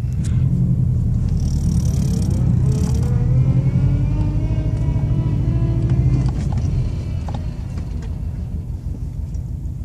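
A car engine idles after a cold start, a close, steady low rumble with a slightly higher note that drops a little, then settles lower and quieter toward the end.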